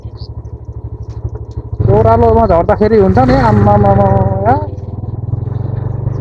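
A motorcycle on a rough off-road route from Kathmandu to Nuwakot: a close, pulsing idle gives way to a loud, rising rev that wavers in pitch, then settles back to a throbbing idle, with a person talking over it.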